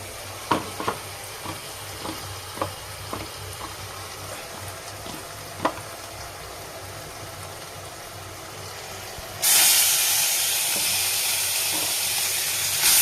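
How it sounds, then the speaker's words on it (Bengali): Prawns fry in a wok with crisp sizzling and a few sharp clinks of stirring at first, then a loud hissing surge of hot oil takes over, close and steady, with no talk. "ততক্ষণ আমি এখানে চিংড়ি মাছটা ভাজি"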